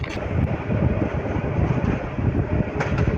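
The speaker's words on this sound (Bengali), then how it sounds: "এই কুয়াশা ভেদ করে আমাদের ট্রেন ছুটে চলছে ভবিষ্যতের উদ্দেশ্যে" A train running through dense fog on the Tangail to Mymensingh line gives a steady, loud rumble and rattle of wheels and carriages, with wind buffeting throughout and no voices.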